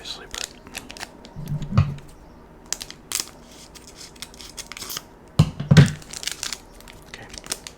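Scissors slice open Pokémon and Yu-Gi-Oh booster pack wrappers, with close, crisp snips and crinkling foil in scattered bursts, under a faint low murmur.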